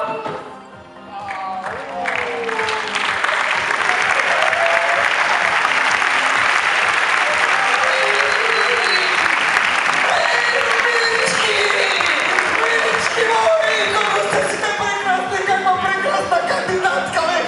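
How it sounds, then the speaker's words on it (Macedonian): Theatre audience applauding after a comedy performance, a dense sustained wash of clapping that swells in after a brief lull and stays loud throughout, with faint voices and some cheering mixed in. "Аплауз!"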